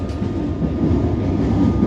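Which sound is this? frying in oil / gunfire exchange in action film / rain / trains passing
trains passing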